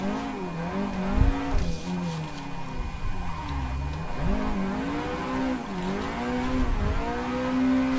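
A drifting car in Assetto Corsa runs at full throttle, its engine note rising and falling in repeated revving sweeps, with brief tire-scrub noise and no talk over it.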